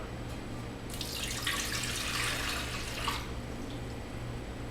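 Lukewarm water runs from a kitchen tap to measure about a cup and three quarters for bread dough, a soft, faint splashing stream lasting about two seconds over a quiet room hum.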